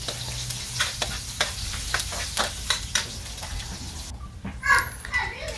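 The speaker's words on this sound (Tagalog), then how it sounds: "igigisa natin sa mainit na mantika ang ating garlic tsaka onion" Garlic and onion sauté in hot oil for pork ribs, a soft sizzle with repeated stirring clacks of a utensil against the pan, close by, while children's voices and chatter carry on in the background.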